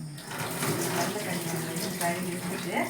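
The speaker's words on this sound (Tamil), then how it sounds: "அரிசி நல்லா கழுவி வச்சு" Varagu rice being washed under running tap water, a quiet continuous splashing trickle with someone talking over it.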